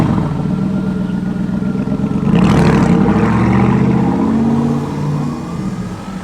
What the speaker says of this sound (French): Là on a la Cobra, regarde. Oh, écoute le son.